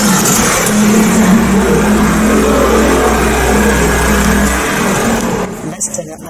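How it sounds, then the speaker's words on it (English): A 2022 Hyundai Santa Fe 2.2 diesel idles after a remote start indoors, a steady low engine hum running loud and close for about five seconds before it is switched off, leaving a quiet room. "Remote engine start feature."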